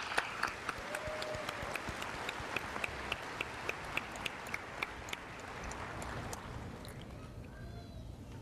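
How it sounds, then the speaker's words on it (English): A commencement crowd at the University of Arkansas Fort Smith claps in a sparse, scattered round, individual sharp claps standing out over a soft wash before fading into quiet near the end. "Let's give these folks a round of applause."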